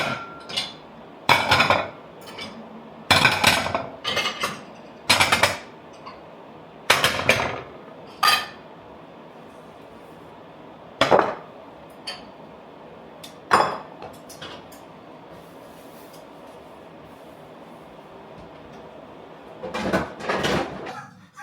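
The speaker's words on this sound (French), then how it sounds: "je vais commencer la vaisselle" Kitchen dishwashing with dishes, pots and cutlery clattering and clinking in separate loud bursts, spread irregularly over the clip with quieter gaps between handling sounds.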